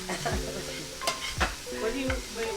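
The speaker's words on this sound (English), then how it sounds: "Now, right now, I'm cooking the vegetables." Vegetables cooking in a pot for gumbo, with a scraping, stirring sizzle and several sharp knocks of a spoon against the pot, all close and with no talking.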